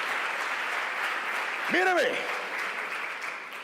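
Church congregation applauding, a steady wash of clapping at moderate level, with a man's brief spoken word cutting in over it midway.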